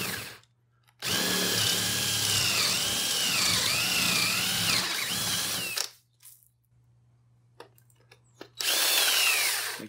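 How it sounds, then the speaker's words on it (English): Power drill boring holes through a wooden block for a homemade bumblebee trap, a loud steady whine with pitch wobbling for about five seconds, stopping, then starting again briefly at the end. "We have our center hole drilled. We need a couple of 45s."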